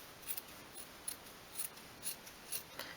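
Scissors snipping fabric for a miniature 1/12th-scale dog bed, about six quiet crisp cuts in an even rhythm, close up with no talking.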